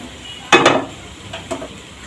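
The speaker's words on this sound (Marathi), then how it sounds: "फ्राय केलेले बटाटे मी त्यामध्ये सर्व घालते" Fried potatoes are tipped into masala in a pan, a sharp scrape-and-clatter burst followed by a softer stirring scrape a moment later, then quiet.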